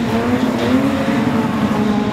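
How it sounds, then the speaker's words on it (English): A production sedan race car's engine out on the track, a steady droning engine note heard at a distance, loud and continuous for a couple of seconds. "Car doesn't sound quite right from here."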